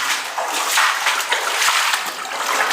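Feet sloshing and splashing through deep water inside an underground bunker in the mountains, a continuous close wash of water churning with small splatters, no clear voices.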